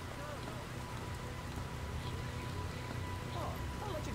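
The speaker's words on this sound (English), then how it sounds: "What are you doing out in the rain?" Rain falls steadily in the Splinter Cell: Pandora Tomorrow video game, a continuous even patter on surfaces throughout, with faint voices underneath.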